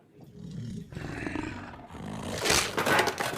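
A werewolf roar in a fantasy audio drama builds from low growling into a loud, harsh roar that peaks near the end, close and alone with no talk.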